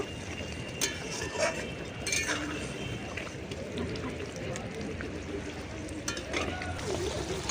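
Katla fish kalia gravy boiling in a pan with the fried fish added: a steady bubbling sizzle broken by occasional metallic clinks of a utensil.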